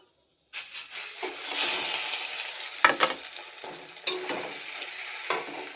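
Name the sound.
taro paste frying with black cumin seeds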